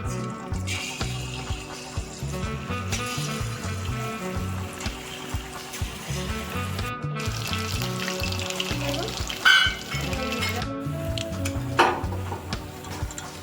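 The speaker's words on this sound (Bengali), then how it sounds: "কড়াইতে আমার তেল গরম হয়ে গেছে এবার ম্যারিনেট করে চিকেনগুলোকে আমি ভেজে" Marinated chicken pieces fry in hot oil in a wok for chilli chicken, with a continuous crackling sizzle, occasional pops and clinks rising above the steady bubbling.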